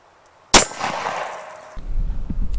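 A single sharp 9mm pistol shot strikes 5/8-inch military Humvee ballistic glass, a loud crack with a ringing, clanging decay, followed by low rumbling handling noise.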